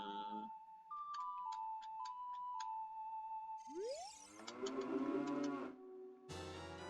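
A cow moos in the Ocarina of Time video game, a loud rising bellow set among chiming game tones and musical jingles, with no talking.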